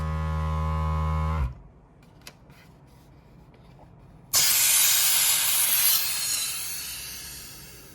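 Pulling the lever on a Resiners Airless Pro3 bubble remover for resin releases a loud, sudden hiss of air that starts partway through and holds steady. A humming pump and a few faint clicks come before it.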